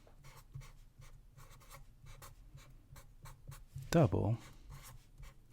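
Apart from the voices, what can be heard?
writing on a game board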